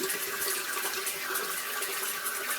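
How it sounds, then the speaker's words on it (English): Steady rush of tap water running to rinse a razor, a continuous, close and fairly loud hiss with no break and no talk. "I'm going to rinse her off real fast."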